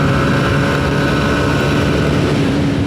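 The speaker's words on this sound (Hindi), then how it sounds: "जब मैं एक्सेलरेट कर रहा हूँ इंजन से जो आवाज़ आ रही है" A TVS Apache 160 4V motorcycle engine revs hard under acceleration, a loud, steady, close drone with a constant engine hum running all the way through and no voices.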